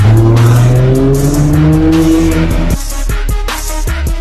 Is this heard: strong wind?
no